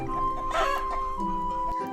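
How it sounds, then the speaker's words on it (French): A hen clucks in a short, close burst of a few rapid clucks, clear and alone with no talking. "C'est une poule"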